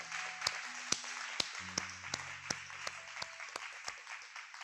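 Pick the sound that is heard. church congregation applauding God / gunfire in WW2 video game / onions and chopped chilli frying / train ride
church congregation applauding God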